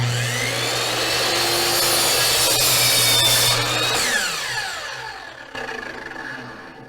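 A powered miter saw slices through a wooden board, the motor whining loudly and steadily through the cut before spinning down as the blade coasts to a stop, with a brief clunk near the end.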